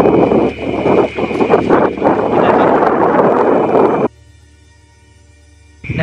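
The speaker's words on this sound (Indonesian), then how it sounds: "Mungkin di kamera kedengeran ya suara angin lewat nih." Cold night wind sweeps across a rice field and buffets the microphone with loud, rushing roar for about four seconds, then cuts off abruptly to near silence before briefly returning.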